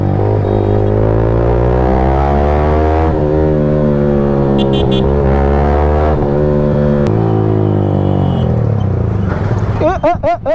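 A vehicle overtakes on the road with a loud, steady engine drone whose pitch rises and shifts, ending in warbling tones.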